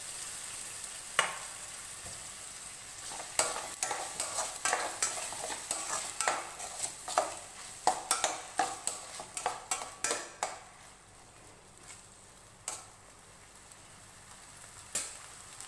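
Chopped tomato and onion sauté in a pan for a bottle gourd sabzi, a soft sizzle running beneath a quick series of sharp scraping and clinking stirs against the metal.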